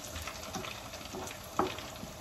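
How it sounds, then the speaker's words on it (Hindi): Garlic tadka tempering for dal crackles in a hot pan with a soft, continuous sizzle and faint popping, heard quietly from close by. "थोड़ा सा डर लग रहा है मुझे तड़का लगाता है."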